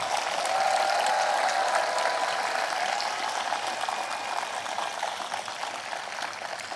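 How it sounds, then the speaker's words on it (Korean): Crowd applause at a memorial ceremony for a former president: a broad, steady wash of many clapping hands heard from a distance, easing slightly toward the end with no speech over it. "마음을 다해 큰 박수로 응원 부탁드립니다."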